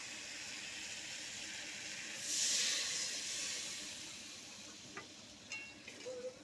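Water is poured into a frying spice paste and sets off a loud hiss and sizzle that swells, slowly fades, and ends with a few small clicks and bubbling pops.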